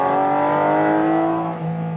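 A Porsche 718 GT4 RS engine revs high on a racetrack, its tone climbing and then holding steady before dropping back slightly, loud and close with no voices.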